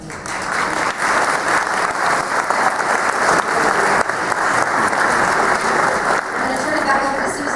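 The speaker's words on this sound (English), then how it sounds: "we have to applaud the family, the friends, and all those loved ones" An audience at a nursing graduation ceremony breaks into loud, sustained applause, dense and continuous throughout with no break.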